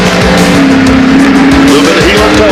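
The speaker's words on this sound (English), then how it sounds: "Now you'll know when he comes to the tight corners because he'll really climb on the brakes." A race car driven by Jimmy Means brakes hard into a tight corner, the loud engine note dropping sharply with a squeal of tires, rumbling close and continuous throughout.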